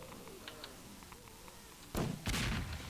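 Bombing explosions in the video game Half-Life 2 Episode 2 bring two heavy blasts near the end, heard after faint scattered pops and a quiet rumbling background.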